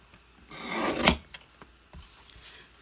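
A picture mat is trimmed by 1/8 inch: one close, rasping cut builds to a sharp scrape, then a few lighter scratches follow.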